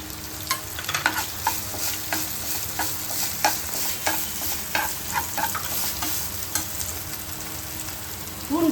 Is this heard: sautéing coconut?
yes